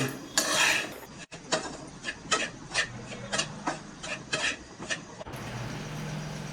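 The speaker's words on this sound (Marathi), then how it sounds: "आता या सुक्या खोबऱ्याला ना तीन चार मिनटं बारीक गॅसवर भाजून घेऊ" Dry grated coconut roasts on a low flame while a utensil stirs it in a pan, producing close, rhythmic scraping strokes repeating roughly every half second with no talk.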